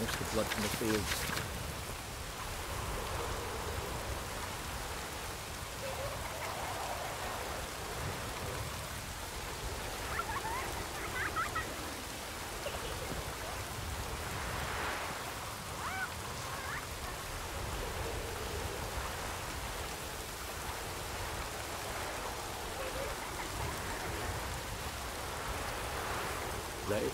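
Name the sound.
rain falling in a video game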